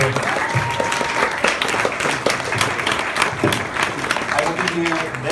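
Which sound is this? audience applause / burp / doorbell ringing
audience applause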